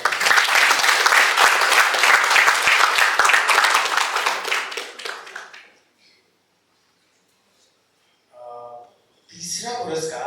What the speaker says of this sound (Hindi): कृपया जोरदार तालियों से स्वागत करें।